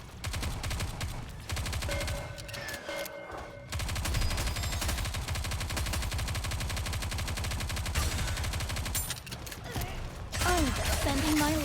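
Sustained automatic gunfire in the shooter game Nikke: Goddess of Victory: dense, continuous volleys with brief pauses, loud and close, running almost the whole time with some voices mixed in.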